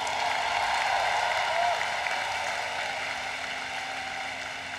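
A commencement crowd at the University of Maryland's 2024 ceremony applauds a graduate, a dense, steady wash of clapping from a large audience that holds evenly and fades slightly toward the end.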